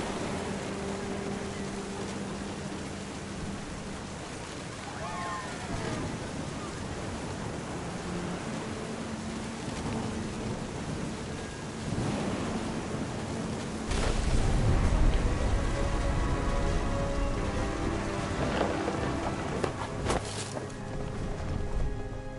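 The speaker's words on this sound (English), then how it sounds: "The thunder sounded much too close and full of angry power." Rain hisses steadily through a video game thunderstorm on a beach, with low distant rumbles of thunder growing heavier midway and persisting under the rain.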